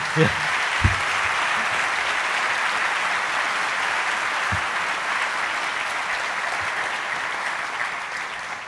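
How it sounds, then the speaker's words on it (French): Sustained audience applause at a conference on the economy and technological revolutions, dense steady clapping filling the whole stretch at an even level, with a few low thumps and faint voices underneath. "Donc je vous demande de les applaudir très fort."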